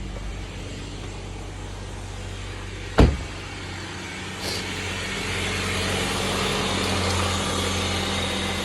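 A car engine idles high right after restarting from a stall, a steady elevated hum with a brief sharp clunk near the start, then a continuous even drone that rises slightly toward the end.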